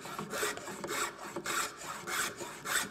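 A plow plane cuts a groove along the edge of a wooden board held without a fence in the way, giving a run of loud rasping strokes in a steady back-and-forth rhythm, close by and alone.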